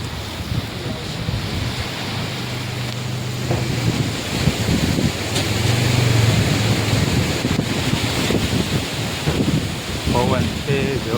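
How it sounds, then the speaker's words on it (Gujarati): Strong gusting wind buffets the microphone during a rainstorm in the village of Gordka, a continuous roaring rush that swells in the middle, with faint voices now and then. "પવન છે જોરદાર"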